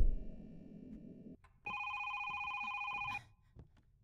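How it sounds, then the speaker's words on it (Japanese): An old-style telephone rings in a horror video game, a steady electronic trill holding for about a second and a half after a low rumbling passage, fairly faint with near silence around it. "電話が鳴ってる間は大丈夫だよね。"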